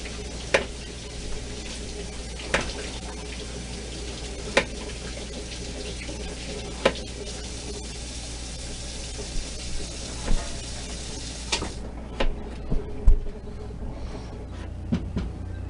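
Vegetables rinse under a running kitchen tap, a steady broad rush of water with occasional light knocks and clatters, growing briefly busier near the end.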